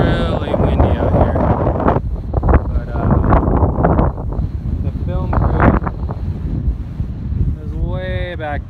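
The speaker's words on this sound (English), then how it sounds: "it's really windy out here" Strong wind at Lucerne Valley dry lake buffets the microphone with a constant low roar and gusty rumble throughout, while a person talks intermittently underneath.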